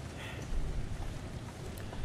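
Wind blows in the survival video game The Long Dark as a low, steady rumbling gust, moderately loud and continuous with slight surges, with no speech.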